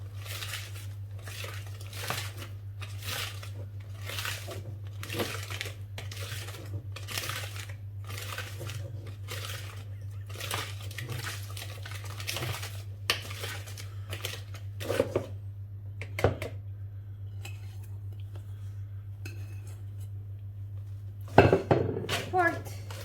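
A whisk beats eggs and yolks in a bowl for a flourless, oil-free triple chocolate cake: quick rhythmic metallic clinks against the bowl repeat steadily and close up, with a louder clatter near the end and a voice at times.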